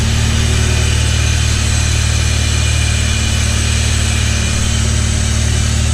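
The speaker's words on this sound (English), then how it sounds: "that's just coming out of the blow-off valve at idle." A supercharged CT70 minibike idles up close with its blow-off valve venting, a loud, steady engine drone under an airy rushing hiss that never lets up.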